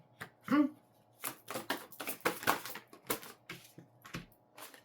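Tarot cards are drawn and laid out, with a run of quick, close papery flicks, slaps and shuffling taps in an irregular rhythm, while a quiet voice speaks at the start.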